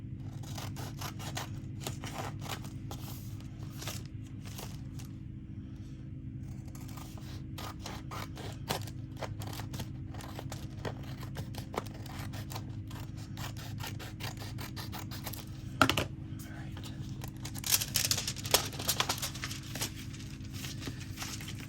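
Scissors snip through junk-mail paper and a sealed envelope in a string of quiet, crisp cuts, with a low steady hum and a few louder clacks and rustles near the end.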